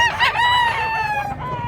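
A rooster, a fighting cock in the Philippines, gives one loud, close crow, a sustained harmonic call that drops and fades toward the end, alone without voices.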